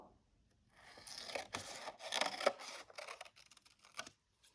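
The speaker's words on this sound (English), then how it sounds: "So I'm going to start on one corner and I'm going to cut to the middle." Scissors snip through paper from a corner toward the middle in a short run of crisp, close cuts, quiet and alone, starting after a brief silence and ending with a final snip.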